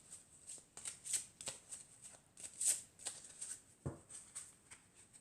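A deck of oracle cards is shuffled in quick, crisp riffling bursts, close and fairly quiet, with brief pauses between the flurries and a soft tap near the end.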